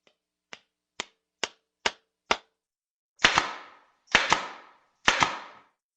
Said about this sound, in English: it actually uses compressed air to push nails really fast into the wood